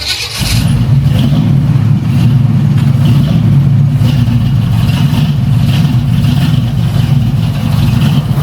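A small-block Chevy V8 running rich on a Holley electric fuel pump revs with a steady, loud, close engine roar that holds throughout without letup.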